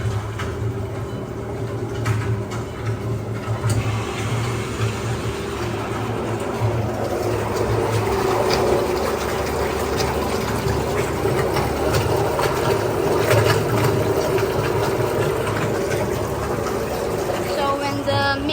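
A VME-200L vacuum emulsifying mixer runs steadily with a low motor hum, whirring and sloshing liquid, continuous and fairly close, with occasional clanks near the end.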